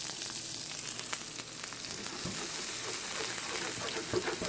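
Diced onions sizzle and fry steadily in a pan on the stove for a Ghana-style egg stew, a close, continuous crackling hiss with faint stirring and no talk.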